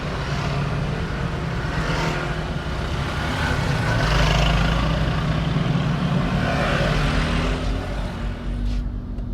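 Traffic roars in through the open window of a moving Honda BR-V N7X Prestige on a busy toll road with minibuses, a steady, loud wash of engine and tyre noise.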